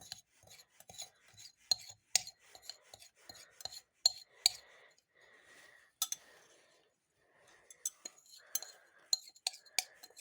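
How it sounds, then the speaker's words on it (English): Metal scrapes and rasps against a container as iron chloride crystals are scraped up, coming in short irregular strokes with small clinks, close and fairly quiet, with brief pauses between bursts. "Okay, let's scrape it up now."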